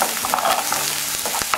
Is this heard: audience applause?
no